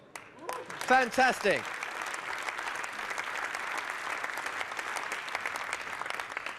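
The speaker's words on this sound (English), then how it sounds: "Round of applause." Audience applause at a food and beverage business keynote, a brief spoken exclamation at the start, then a steady wash of clapping from a large crowd that holds evenly throughout.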